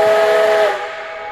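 Whistle blast from Duluth and Iron Range 332, a 1906 consolidation 2-8-0 steam locomotive: a loud, steady chime-like tone close by that fades into a lingering hiss of steam.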